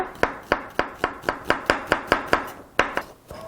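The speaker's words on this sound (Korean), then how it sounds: "양파를 다져보도록 하겠습니다" Onion being finely chopped with a knife on a board, a close run of about a dozen sharp, evenly spaced chops with a brief pause near the end and no talk.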